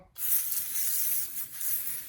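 A sustained hiss of a penetrant aerosol can spraying a noisy front hub bearing on a 2009 GMC 1500, starting abruptly and continuing for about two seconds with slight pulses.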